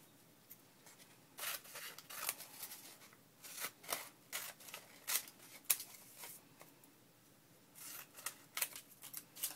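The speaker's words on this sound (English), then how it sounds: "So I'm just going to quickly cut this down to size." Scissors cut paper card down to size for an artist trading card, giving a quiet, close series of crisp snips and rustles in short bursts.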